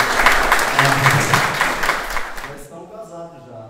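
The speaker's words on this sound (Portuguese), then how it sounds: "Vamos saudar os noivos, uma salva de palmas." Wedding guests applaud the newly married couple with a brisk round of clapping that fills the room, then fades out at the end, with voices murmuring underneath.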